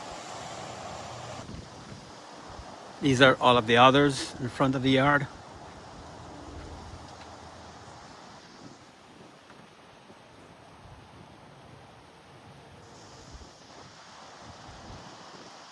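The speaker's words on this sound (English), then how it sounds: "You can see how windy it is." Strong wind blows steadily outdoors around a yard set up with large outdoor Christmas trees, a continuous noisy rush over the whole stretch, with a person talking briefly near the start.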